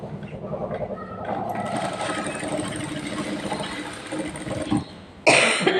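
A sewing machine stitching cloth for blouse and dress hangings whirs in a steady, even run for about five seconds, then stops, followed by a short loud clatter.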